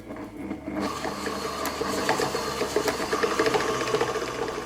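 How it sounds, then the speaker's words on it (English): An electric mixer whips shortbread batter of creamed butter and caster sugar, a steady mid-pitched whir with rattling beaters, starting up after a brief quiet moment and running continuously, close by. "I'm going to add in my caster sugar and keep whipping up for another 2 minutes."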